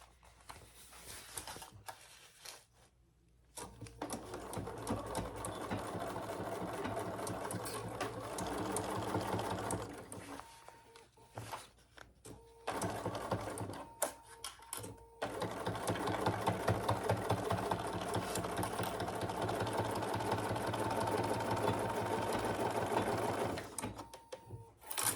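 Sewing machine stitching the boxed corners of a fabric divided basket: long runs of steady, close needle whir broken by several brief pauses and restarts, with handling noise in the gaps.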